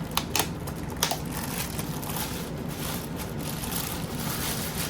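Adhesive tape is peeled off the bottom of the packaging wrapped around a SKAR Audio RP-1200.1D car amplifier: a few sharp crackles at the start, then a steady close ripping hiss.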